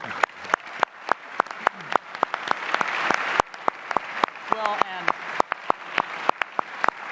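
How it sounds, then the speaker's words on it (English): An audience at a 2018 gubernatorial candidate debate at UW-Milwaukee claps in sparse, distinct, sharp claps spread across several seconds, with talking underneath. "can we give them a round of applause?"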